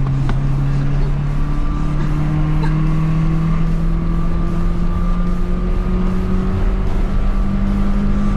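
Nissan S13 pulling hard onto a motorway after a downshift, engine note climbing in long rising sweeps, loud and close from inside the car, steady and continuous throughout.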